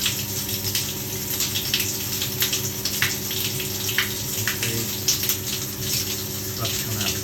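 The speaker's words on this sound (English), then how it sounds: "Sludge coming out of the system, black water coming out of the system" Sludgy black water flushing out of a radiator heating system during a power flush, a steady continuous gushing and splashing rush like a running tap, close and fairly loud, with faint machine hum underneath.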